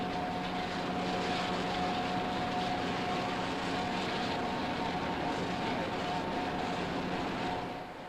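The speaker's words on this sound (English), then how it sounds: "Three and a half years accumulation of oil-bound road dirt is pressure hosed away." A pressure hose blasts built-up oil-bound road dirt off a bus body during an overhaul, a loud, continuous rushing hiss with a steady droning hum beneath it, and no speech.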